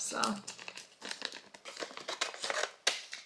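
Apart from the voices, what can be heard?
wrapping paper crinkling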